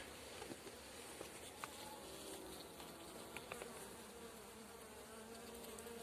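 Carniolan honeybees at an opened hive on a cool day give off a faint, steady buzzing hum with occasional soft taps and knocks around the box.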